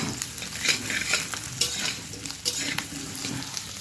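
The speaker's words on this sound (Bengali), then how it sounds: "কড়ার তেল গরমই হয়ে গেছে, কারণ কড়া খুব গরম। এগুলো আমি একটু গোটা গোটাই ভেজে নিচ্ছি।" Whole spices frying in very hot oil in a wok, a steady crackling sizzle punctuated by scrapes and clinks of a stirring utensil, close and moderately loud with no talking.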